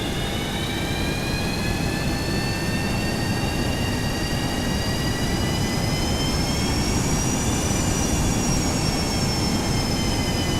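Boeing 737-200 jet engines roar steadily through a takeoff roll in a flight simulator game, with rising whining tones over a constant loud rumble and no talking.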